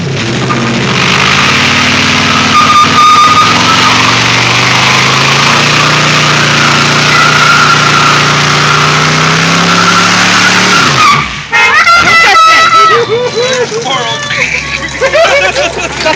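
A Firebird car does a burnout, with a loud sustained engine roar and screeching tire squeal close by, then a revving surge and further squeals near the end, while an excited crowd chatters and shouts around it.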